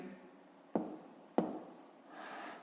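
A pen moves across paper during a fifth-grade maths exercise, with two sharp taps and soft scratchy strokes, close and quiet, no voices.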